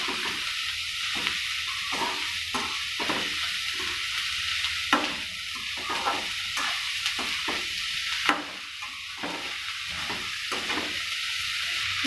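Sliced onions sizzle steadily in a hot pan for a Bihari onion sabzi, with repeated rhythmic scrapes of a spatula stirring them throughout and a couple of sharper clacks against the pan; no talking.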